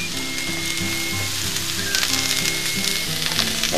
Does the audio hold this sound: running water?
no